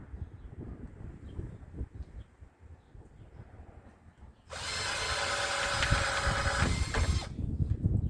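A power drill bores holes in a 5 gallon plastic bucket, starting partway through and whining loudly and steadily for about three seconds over low background rumble before spinning down.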